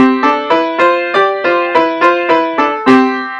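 A bright piano-like melody of about eleven evenly paced notes, harmonized in parallel fifths, each struck as a hollow-sounding two-note interval moving in parallel, loud and clear.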